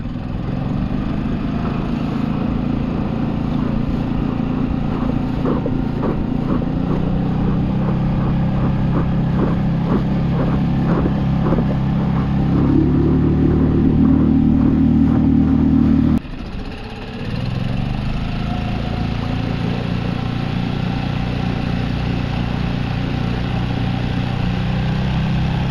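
An outboard motor drives a Bote Rover Aero fishing skiff, running steadily and loud throughout with a rising throttle surge and a brief drop before it settles back to a constant drone.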